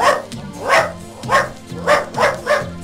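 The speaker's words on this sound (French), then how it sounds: "Waterloo se mit à aboyer" A dog named Waterloo barks five times in a steady rhythm, loud and close, each bark evenly spaced.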